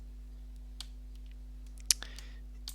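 A computer mouse clicking a few times, sparse and faint, with one sharper click among soft taps over a steady electrical hum.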